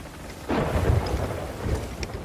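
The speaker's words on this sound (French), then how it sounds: "Ah voilà, la fin de la tempête." Thunder rumbles low and heavy over steady rain in the pirate sailing game Sea of Thieves, a single rolling crack swelling then fading into the downpour with no talk.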